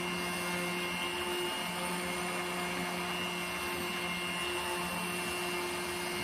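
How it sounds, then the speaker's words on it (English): An immersion blender whirs continuously while emulsifying hot caramel for a chocolate recipe, a steady motor drone with a constant pitch and no pauses, close and alone without talk. "Using your immersion blender, emulsify the caramel until it becomes shiny and smooth."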